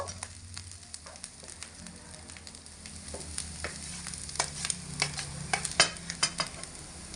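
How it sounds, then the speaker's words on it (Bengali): Mashed green banana goes into a pan of frying onion, garlic, chilli and ginger for banana chops, and a soft sizzle carries beneath repeated close scraping and stirring clicks that grow busier toward the end. "এবার এর মধ্যে কলা মাখাটা দিয়ে দেব"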